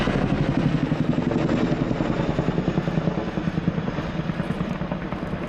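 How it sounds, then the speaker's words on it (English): A Boeing CH-47 Chinook tandem-rotor helicopter thunders nearby at an air show flying display, its rapid rhythmic blade slap beating over a dense engine roar, loud and steady throughout. "Giving you the chance to really hear the fabulous sound of the plane slap"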